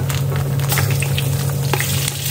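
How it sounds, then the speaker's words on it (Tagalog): Bopis meat being stirred in hot cooking oil, sizzling loudly and steadily throughout, with a constant crackling hiss and soft shifting from the stirring. "Kailangan natin itong haluin mabuti dito sa mantika para maganda yung kulay niya."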